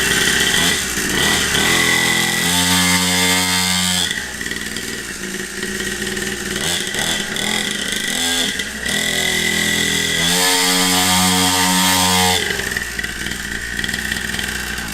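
A small cheap two-stroke pit bike engine buzzes loudly nearby, idling raspily then revving up in two sharp bursts, with a chainsaw-like whine.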